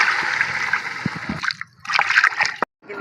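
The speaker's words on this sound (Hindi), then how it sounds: "अब लगाते हैं थोड़ा सा पानी" Water pours and splashes into a pot of browned chicken and fried potatoes, a steady gurgling rush with a couple of brief pauses.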